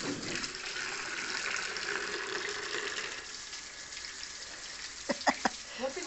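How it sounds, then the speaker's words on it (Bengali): Water pours into a container with a steady, close rushing splash that softens partway through, followed by a few brief knocks near the end. "জল ভরো, ভর্তি করো ওটাতে।"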